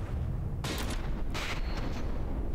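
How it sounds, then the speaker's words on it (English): Mortar shells strike a battleship in the naval combat game From the Depths: two sharp, bright blasts land over a low rumbling background, the second followed by a brief crackling tail. "Mortars actually reached their mark here."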